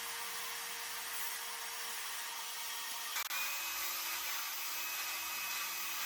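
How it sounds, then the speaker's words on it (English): A belt sander runs continuously on a wooden guitar body part for a multi-scale kit build, a steady hissing abrasive rush with a brief bump near the middle where the wood shifts against the belt. "So now I'll just take it to the belt sander and get that little bit off there."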